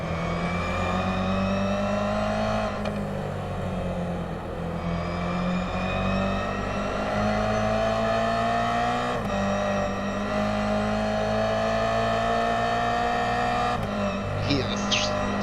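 Onboard a Toyota 86 race car, the engine drones steadily loud with rising revs and shift dips, other cars close by, under commentary.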